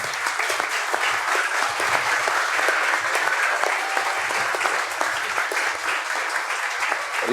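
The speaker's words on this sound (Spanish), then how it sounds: "Y un aplauso a todos los hermanos que nos sirvieron" A church family conference audience applauds the people who served the meal, with dense, steady clapping from a sizeable crowd lasting several seconds at an even, loud level.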